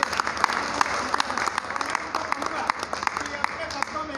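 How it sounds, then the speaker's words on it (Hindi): An audience applauds to welcome a guest at a talk, giving a steady, moderately loud patter of many hands with sharper individual claps standing out throughout. "जोरदार तालियों के साथ स्वागत कीजिए।"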